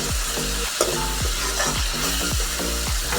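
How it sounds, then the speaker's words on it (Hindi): Spice masala for a village-style chicken curry gravy frying in a pan, a dense continuous sizzle broken by repeated rhythmic scraping strokes of stirring, close and fairly loud, with no voices. "फिर ये ग्रेवी के लिए मसाला भून रही हूँ।"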